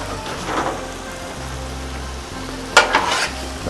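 Chorizo sizzles and crackles on a hot Blackstone flat-top griddle during outdoor camp cooking, a dense, rain-like frying hiss with a few sharper scraping or stirring bursts near the end; no talking.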